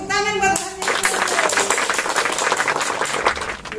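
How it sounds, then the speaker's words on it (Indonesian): Congregation at an online Sunday school service claps hands in a quick, rhythmic burst following a sung note, many sharp claps in steady succession under a faint voice. "Tepuk tangan buat Tuhan"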